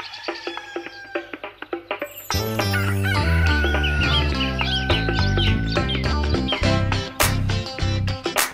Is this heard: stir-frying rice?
no